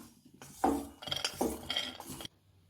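Roasted pistachios tipped out of a pan, a brief clattering rush of nuts and metal scraping that lasts about two seconds and then stops.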